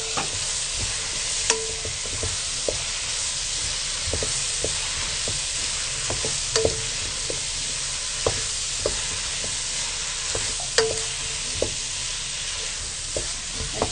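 A spoon keeps scraping through samosa filling of mashed potato, green chilli and chopped coriander in a pan, with a soft steady sizzle underneath and light knocks against the metal, and nobody speaks.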